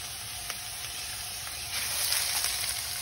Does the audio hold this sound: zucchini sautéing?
yes